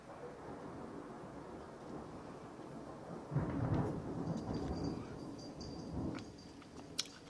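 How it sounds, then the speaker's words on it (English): Thunder from a big storm outside rumbles low and muffled from a distance, swelling midway and lingering under a steady background hiss, with a few small sharp clicks near the end. "I don't know what's picking up on camera, but there's a mega storm outside"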